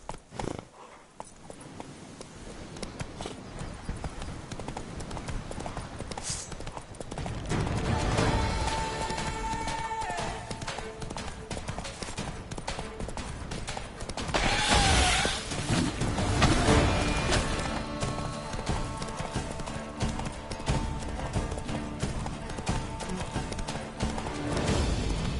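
In The Witcher 3: Blood and Wine, Roach the horse gallops with rapid hoof beats over a dense game soundscape, and a whinny rises partway through.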